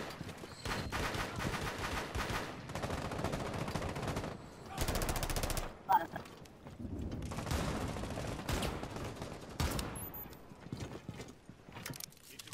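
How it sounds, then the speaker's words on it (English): Rapid gunfire in Rainbow Six Siege Terrorist Hunt, dense bursts of automatic shots running nearly the whole time, loud and close, with a sharp isolated crack near the middle and no speech. "Can you stop shooting?"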